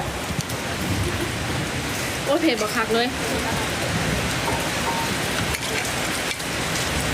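Steady rain falls and patters on surfaces outdoors during a meal, a dense continuous hiss with someone speaking briefly over it.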